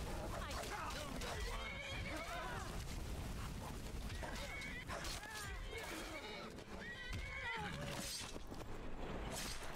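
A horse in Skyrim whinnies repeatedly with rising, wavering neighs, mixed with clopping hooves and clattering game effects, while someone talks over it.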